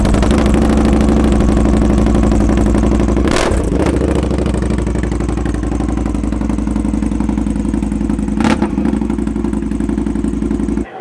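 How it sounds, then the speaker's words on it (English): A Hooligan-style custom motorcycle with a loud exhaust, shown at a London motorcycle show, runs continuously close by with a steady heavy engine drone, two brief sharp blips of revving breaking through. "I've got a clip that I can insert now of one of their Hooligan builds being revved up"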